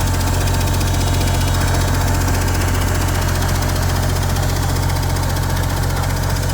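Abandoned Versatile 895 tractor engine revving up, a loud, steady diesel roar with a strong low rumble and a knocking idle character throughout, close and continuous with no voices.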